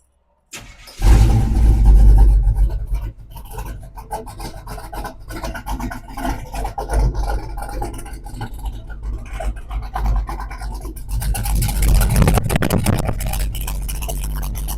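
A 1984 Chevrolet K10 Scottsdale squarebody pickup's small block V8 cranking and firing, catching with a loud burst then settling into a rumbling idle that swells again near the end, close and raw, with no talking.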